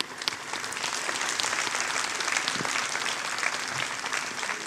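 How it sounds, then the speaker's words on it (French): Sustained applause from an audience honoring a woman at a French-speaking gathering, a dense, steady wash of clapping that stays even from start to finish with no voices over it. "Applaudissez encore pour cette dame-là qui a fait beaucoup pour nous."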